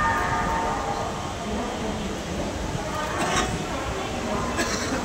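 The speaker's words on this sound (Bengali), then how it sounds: "ট্রেন তার নির্দিষ্ট সময় হাওড়া স্টেশন ছেড়ে গন্তব্যের উদ্দেশ্যে রওনা দিল" A local train pulling out of Howrah station in Kolkata, bound for Dhaniakhali Halt: a steady rolling rumble of the carriages with faint metallic clinks and a distant horn-like tone.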